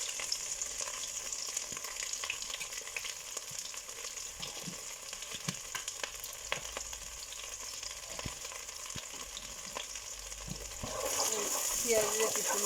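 Onions sizzle steadily in hot oil with bay leaves, cinnamon and cardamom for a beef biryani, a continuous close frying hiss that swells louder near the end.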